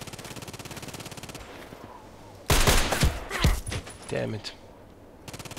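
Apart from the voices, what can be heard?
sniper gunshots in a video game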